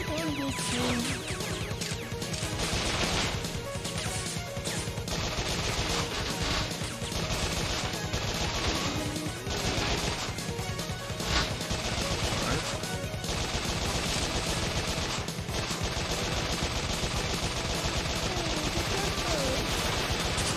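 Machine gun fire in the Bot Vice video game, rapid dense bursts of shots and crashing impacts, loud and nearly continuous, with occasional voice mixed in.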